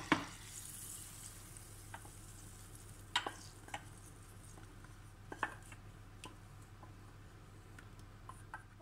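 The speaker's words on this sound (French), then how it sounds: "Voilà, mon beurre bout bien." Butter bubbling and browning in a pan for heart-filled muffins: a steady low sizzle and hiss runs throughout, broken by a few sharp ticks and clinks of a utensil against the pan, with no talk.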